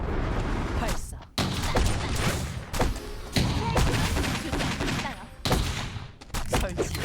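Rapid gunfire in a video game crackles in dense bursts with thumping impacts, broken by short pauses, while game voice lines sound over the action.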